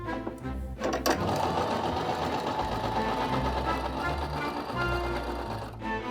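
A sewing machine stitches raincoat fabric in a long, even run of rapid needle chatter and motor hum, close and steady, after a couple of brief clicks at the start.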